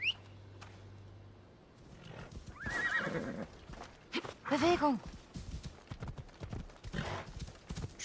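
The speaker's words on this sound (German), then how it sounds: "Da haben wir das Pferdchen." Horse in the video game Assassin's Creed Odyssey, neighing loudly with a whinny partway through and clip-clopping hooves around it, mixed with game effects while someone speaks briefly.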